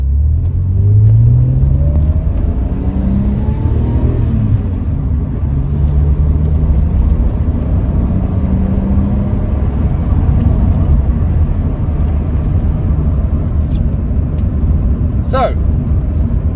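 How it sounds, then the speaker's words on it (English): A 2002 MG ZS 180 drives along the road with a loud interior engine drone and rising, shifting tones as it accelerates, continuous throughout, with a short squeak near the end. "MG ZS out on the road, what's it like?"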